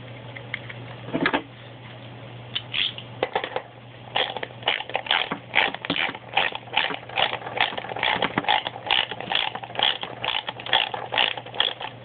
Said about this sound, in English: I'm actually going to bolt my tire back on for this.